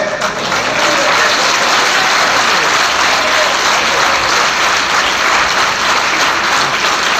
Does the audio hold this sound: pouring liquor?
no